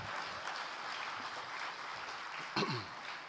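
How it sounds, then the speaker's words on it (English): Audience clapping at a public wealth management conference, a moderate, even patter of applause throughout with a brief cough or throat clear near the end. "you have to clap"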